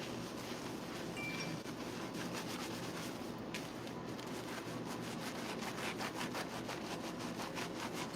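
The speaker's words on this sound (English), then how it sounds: "So I'm using the scalp agitator just to remove any buildup that she has on the scalp" A scalp agitator brush scrubs steadily across a salon client's scalp, making a continuous close rasping, rubbing sound with a faint rhythmic pulse and no talking.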